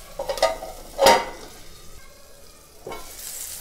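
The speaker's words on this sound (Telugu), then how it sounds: "ఎల్లిపాయలు, మిరపకాయలు దూరగా వేగేంత వరకు మనము స్టవ్ చిన్నగా పెట్టేసుకొని" Garlic and green chilies frying in a pan over low heat, a steady soft sizzle with a few louder stirring scrapes, close and without talk.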